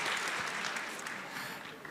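An audience at a live event applauds after a rapid-fire question round, a dense wash of clapping that stays fairly steady and close for a couple of seconds without any voices on top.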